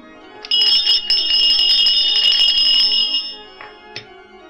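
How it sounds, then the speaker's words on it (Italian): Bells ring out together from church bell towers at midnight on 24 December, a loud sustained metallic clang with rich overtones that swells suddenly, holds for about two and a half seconds, then decays. "saliamo sui campanili alla mezzanotte del 24 dicembre e facciamo suonare tutte le campane del mondo"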